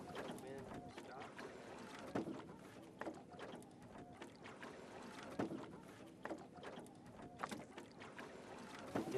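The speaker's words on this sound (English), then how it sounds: "The wind's just blowing it out." Wind buffeting a small boat on Tam Giang Lagoon in Vietnam, a steady low rush with gusting thumps on the microphone, with some water and boat noise throughout.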